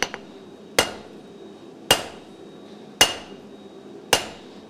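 A blacksmith's hammer strikes hot metal near a shoulder of the stock during hand forging, five sharp, ringing blows spaced about a second apart, close and loud with short decays between them.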